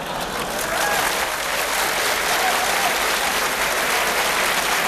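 Dense applause from a crowd of roughly four thousand filling a large university hall, a steady wash of clapping that holds loud and even for the full stretch, with faint voices buried underneath.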